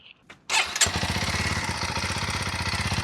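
A Kawasaki KLX 230 dirt bike starts and settles into a steady idle, its exhaust thumping in an even, close, loud rhythm after a brief quiet moment at the start.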